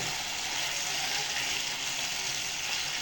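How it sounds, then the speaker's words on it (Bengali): Fish frying in oil in a pan, a steady, even hiss and sizzle with no talking over it. "আমার মাছগুলা কষানো হয়ে গেছে, একটা তেল আসছে"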